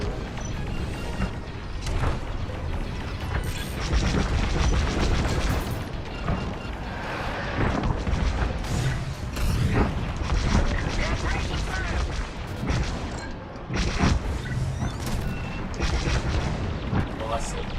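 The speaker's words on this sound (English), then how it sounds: "Precision bombing." Booming explosions from a precision bombing run into a trench in the Star Wars Squadrons video game roll on continuously and heavily, with a player's voice talking over the blasts.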